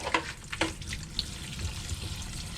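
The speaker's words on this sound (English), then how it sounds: "Make sure my water's on cool." Cool tap water runs steadily into a sink while red snapper throats are rinsed, with splashes and handling clatter breaking in over the constant flow.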